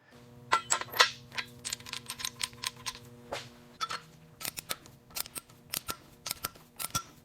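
Sharp metallic clicks and snaps of a torque wrench in irregular bursts, fairly close, over a faint low hum, with a few louder clacks near the start.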